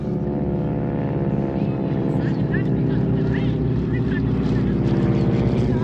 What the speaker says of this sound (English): This is such a small plane.